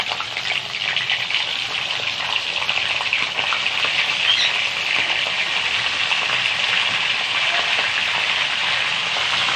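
Shrimp frying with garlic in a hot pan, giving a loud, dense, steady sizzle like heavy rain, close up and continuous without a break.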